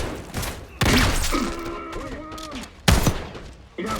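Shotgun gunfire in the Black Ops 6 video game campaign: sharp blasts with thudding impacts, loud and close, mixed with game sounds and voices.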